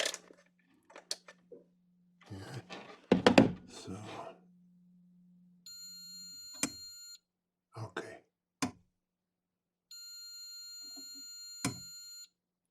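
A continuity beeper gives steady electronic tones during a short circuit test on synthesizer hardware, two sustained beeps of a few seconds each, interrupted by scraping and clicking handling noises and a brief low hum.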